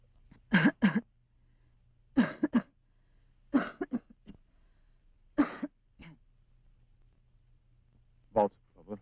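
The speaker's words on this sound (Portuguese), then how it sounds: "Agora tossa." A patient coughs on request during a chest examination, several short bursts of coughing spread across the stretch with pauses between them, fairly close, over a low steady hum.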